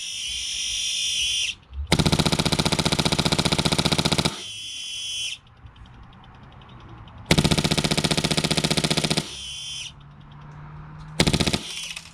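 A Classic Army Stoner airsoft light machine gun fitted with a Polarstar F2 engine fires in loud, close, sustained bursts of rapid buzzing shots separated by pauses, with a whining hum between bursts.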